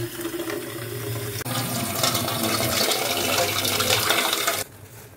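Tap water runs into a container in a home kitchen, a steady rushing stream that rises slightly as it fills, then cuts off abruptly near the end, leaving quiet.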